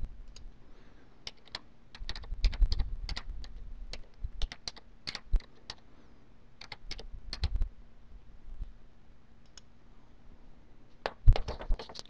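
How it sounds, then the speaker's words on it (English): Keys on a computer keyboard clatter in irregular bursts as a username and password are entered, close and moderately quiet, with short pauses between runs of typing and no voices. "Please enter the username and password that you've been provided with and click Login."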